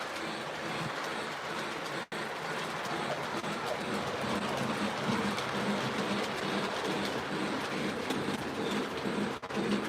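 Lionel and MTH model trains roll steadily along the track in a winter layout setup, a continuous rumbling clatter with rhythmic clicks that holds for the whole stretch with no talking.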